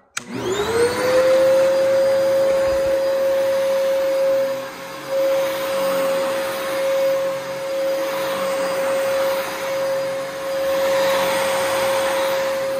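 A vintage vacuum cleaner motor spins up and runs loud and close, a steady high whine with broadband airflow rush that wavers slightly in level, with no talk over it.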